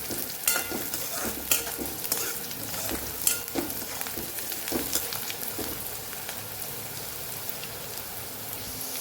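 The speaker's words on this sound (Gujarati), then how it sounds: "ડુંગળીનો થોડો કલર બદલાય ત્યાં સુધી આપણે એને સાતડવાની છે એટલે કે થોડી સોફ્ટ એવી થાય ત્યાં સુધી આપણે એને સાતળશું" Onions and peanuts sauté in a pan with a continuous close sizzle, rain-like crackle and repeated scraping stirs of a spatula at irregular intervals, with no voices over it.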